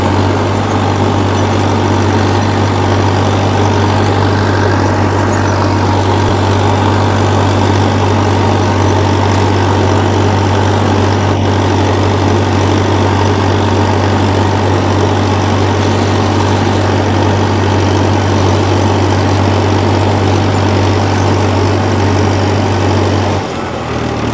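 A tractor pulling a disc harrow through a field, its engine a loud, steady low drone that holds constant throughout with no talk.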